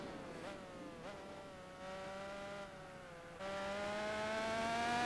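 Small, buzzy car engine in Gran Turismo 4 with a thin, moped-like tone, rising in pitch through several gear changes and growing louder toward the end.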